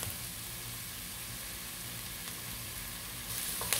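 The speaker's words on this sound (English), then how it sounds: "I'm going to add in my garlic, and I'm not gonna let it burn." Garlic fries in a pan with a soft, steady sizzle, faint and continuous throughout, with a small clink near the end.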